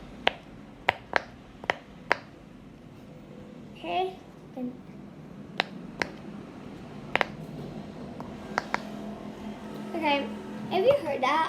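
A pink silicone pop-it fidget toy gives a series of sharp, close little pops, several in quick succession early on and more scattered later, with a voice speaking briefly in between.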